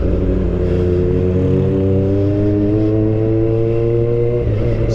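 Honda CB400 Super Four motorcycle engine idling and revving steadily with a strong harmonic drone, loud and close throughout, no talk over it.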